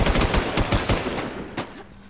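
Rapid automatic gunfire in a shooter game, a quick run of loud shots in uneven bursts that thins out toward the end, heard alone.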